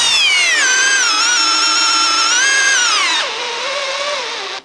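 A Bosch multi-chuck drill driver with an 8-inch bit spins loud and steady under load, its whine dropping sharply in pitch near the end as the motor bogs down.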